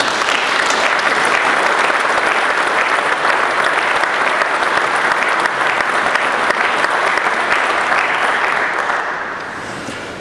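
Sustained, loud applause from a large audience at a company's 25th anniversary speech, dense and even for about nine seconds before tapering off at the end.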